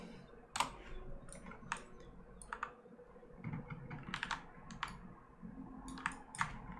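Typing on a computer keyboard in a quiet room, irregular bursts of light key clicks spaced across the stretch, fairly faint and close, with no talking.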